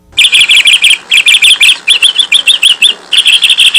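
A bird chirps in rapid, bright, loud bursts of repeated high tweets, close and clear, with short pauses between phrases.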